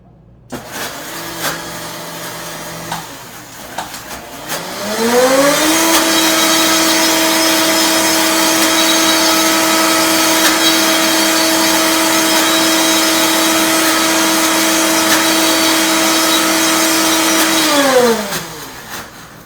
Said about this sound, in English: It's always so difficult working with a blender for the cooking class because you want to have it nice and blended nice and smoothly